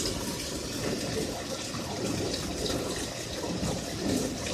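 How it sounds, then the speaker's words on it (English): Water pours continuously into a barrel in a backyard aquaponics system, a close, steady rushing splash with no pauses, building just before the drain cycle. "when I hear this water, that means that we're getting to pretty close to a drain cycle again"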